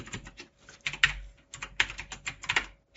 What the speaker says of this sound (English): I'm going to go ahead and type this out